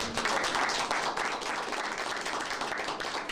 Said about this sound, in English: if you could join me in a round of applause